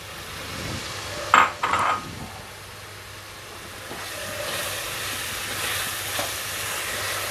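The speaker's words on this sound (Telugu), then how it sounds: "మనం దీంట్లోకి ఆగిలేసుకున్నటువంటి పచ్చిరొయ్యలు వేసేయాలి" Raw prawns go into a hot pan for a brinjal and tomato curry, a clatter of dropping and stirring followed by a steady soft sizzle of frying, near and without speech.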